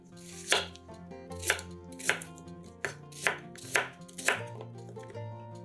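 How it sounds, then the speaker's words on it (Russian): A knife chops five onions steadily on a cutting board, about eight crisp evenly spaced strokes, close by, with soft music playing underneath. "5 луковиц тоже нарезаем произвольными кусочками"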